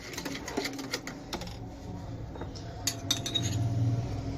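A spoon clinks and scrapes against a bowl while vegetable raita is mashed and mixed, with irregular taps and scraping strokes close by, louder toward the end.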